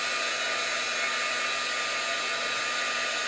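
A hair dryer blows steadily on fresh paint on a craft frame, a loud, even whooshing drone held close and unbroken throughout.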